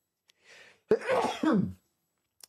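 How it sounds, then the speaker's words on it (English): A short breathy intake followed by a single abrupt, forceful sneeze-like burst close to the mic, then quiet. "I'm going to sneeze"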